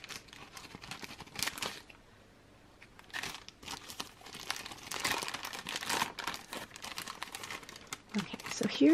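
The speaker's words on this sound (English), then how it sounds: "so I'm going to go ahead and use my scissors here." Scissors and hands crinkle and snip open a sticky plastic Sole Guard sandal-protector package, in close, uneven bursts of rustling and cutting with brief pauses.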